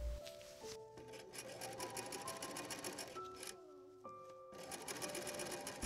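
A sewing machine runs steadily for several seconds, top stitching the selvage edges of pleated fabric directly to a lining for a gothic Edwardian outfit; the motor hums and whirs continuously with close, loud needle chatter and brief pauses.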